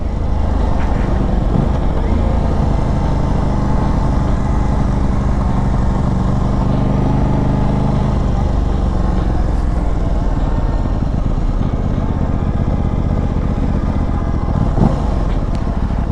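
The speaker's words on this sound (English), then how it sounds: "This parallel twin definitely sounds really good. Even stock, it has a very distinct sound." Aprilia RS660 parallel-twin sport motorcycle engine droning steadily and loudly throughout, a constant dense engine roar with slight pitch shifts, no voices.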